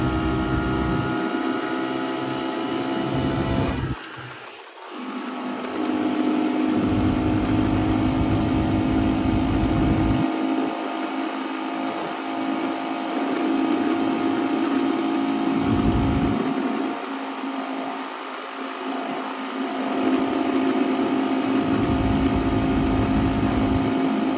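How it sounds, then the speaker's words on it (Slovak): A Jawa 250 type 353 motorcycle engine, freshly overhauled and lacking power, runs steadily for a long stretch with a few rev changes and dips, loud and close with no voices. "Cíti, že ten motorček je lenivý."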